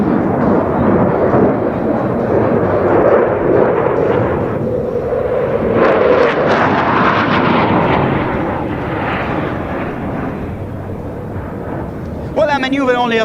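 A Eurofighter Typhoon jet flies display manoeuvres with a vertical climb, inverted turn and gear down under load, its loud, roaring thrust swelling and fading across the whole stretch.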